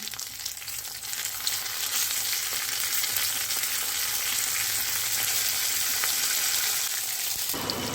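Browned onions and tomato slices fry in a pan for an egg dish, giving a dense, even sizzle with light stirring. The sizzle stays loud and constant throughout, with no talking.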